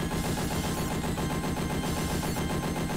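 Super bomb blast in the Aliens arcade game, heard as a dense, continuous barrage of loud rapid booms and gunfire-like crackle throughout, with no voices.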